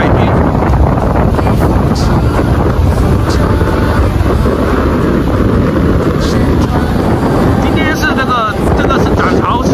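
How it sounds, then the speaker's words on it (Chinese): Rough sea waves churn at the seaside while strong wind buffets the microphone in a constant loud roar, with a voice talking over it. "今天头一次看到这么汹涌澎湃的大海呀"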